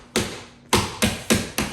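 Ice being crushed with a hammer at a home bar for cocktails: five sharp, loud thwacks at uneven intervals, each ringing briefly and fading, close up with no voices.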